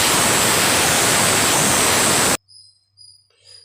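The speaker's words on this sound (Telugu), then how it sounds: "రెండు మూడు విజిల్లు వచ్చే వరకు కుక్కర్ మూత పెట్టి ఉడికించుకుందాం" A pressure cooker cooking moong dal khichdi releases a loud, steady rush of steam for about two seconds, then stops abruptly, leaving short, softer whistling puffs.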